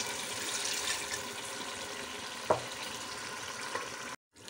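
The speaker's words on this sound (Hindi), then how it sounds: "और अब इसमें पानी डाल देंगे" Water goes into a pan of frying pulao biryani, producing a steady, close sizzling hiss with one sharp clink midway and a brief cutoff near the end.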